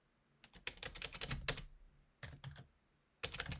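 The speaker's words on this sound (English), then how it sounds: "I can't type" Typing on a computer keyboard in three quick bursts of close, crisp key clicks with short pauses between them.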